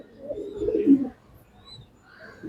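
A racing pigeon gives a single low, throaty coo up close, then falls quiet.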